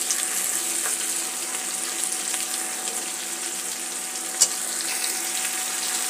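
Onion, eggplant, potato and beans frying together in hot oil, giving a steady close sizzle with faint bubbling and one brief sharp tap near the end, no talking.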